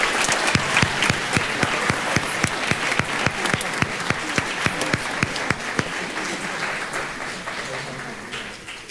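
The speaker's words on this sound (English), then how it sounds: "Can we have one big round of applause for all of our 8th graders?" An audience at a school spring concert applauds 8th graders: a full crowd claps with sharp, evenly spaced accents standing out in a quick steady rhythm before the clapping thins and fades near the end.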